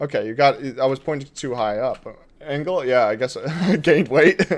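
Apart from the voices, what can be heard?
No everyday noises stand out.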